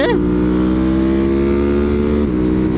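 A 2023 Ducati Monster motorcycle engine pulls hard under acceleration, its loud, close, steady rising drone holding for a few seconds with a slight shift near the end.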